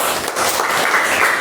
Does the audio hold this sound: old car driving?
no